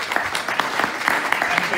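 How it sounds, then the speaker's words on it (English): A church congregation gives the sermon jury a round of applause, a brief burst of many hands clapping in a room, fairly loud and busy throughout. "Give our jury a round of applause."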